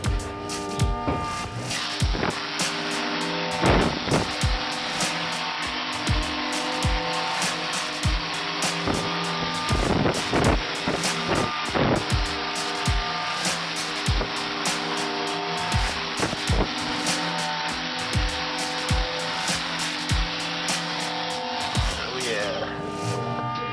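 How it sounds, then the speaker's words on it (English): Power sander grinding paint off bicycle metal, a loud continuous whirring buzz with repeated sharp scraping bursts as the pad bears down, running steadily throughout with occasional voice. "Sander is doing a fucking awesome job at getting back the paint"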